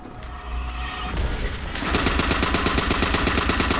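Rapid automatic gunfire from the player's favorite gun in Call of Duty, starting as lighter shots, then a dense, loud, continuous stream of bursts for the last two seconds.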